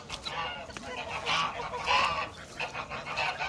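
A flock of geese honking nearby on a goose farm, overlapping calls rising and falling against steady outdoor noise.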